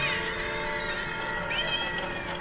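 An animated Halloween cat decoration meows with a drawn-out electronic call, a rising pitch sweep halfway through, steady and close against a busy store background with no one talking.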